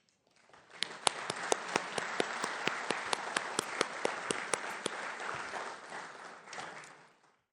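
An audience at a policy conference applauds to welcome a panel onto the stage, with dense steady clapping that holds for several seconds, a few sharp individual claps standing out, before it fades away.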